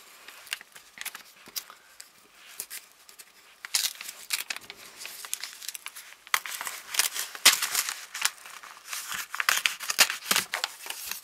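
A paper happy-mail envelope is opened by hand with close crinkling, tearing and rustling in irregular bursts that grow busier toward the end.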